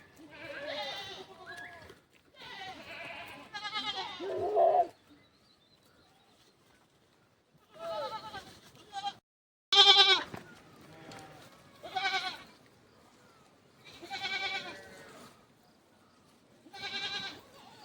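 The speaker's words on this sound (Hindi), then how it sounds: "इन पुहालों की भेड़ें" Several sheep and goats of Gaddi shepherds in the Himalayas bleat in separate bursts with quiet pauses between, the calls fairly close and loud, some overlapping.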